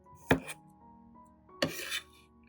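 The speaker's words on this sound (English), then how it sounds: "First, slice the garlic into thin, not too thick slices." A knife cuts through garlic cloves in two separate crisp slicing strokes on a board, close and clear against quiet surroundings.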